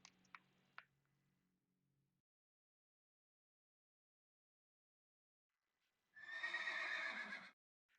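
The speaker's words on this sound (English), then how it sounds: "at least horses were on there then, by the sounds of things" In a video game, hooves clop a few times near the start, then after a long silence a horse gives a single loud, close whinny lasting about a second.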